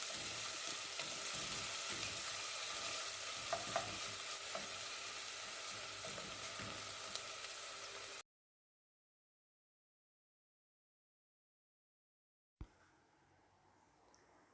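Chopped onion fries in a pan for pulao, a close, steady sizzle with light stirring scrapes. It breaks off into silence, then resumes more faintly.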